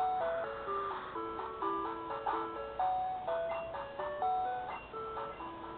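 A Pokemon egg in Pokemon Gold plays its pre-hatching jingle, a looping run of bright chiptune notes in a steady, tinkling rhythm at low volume with no speech.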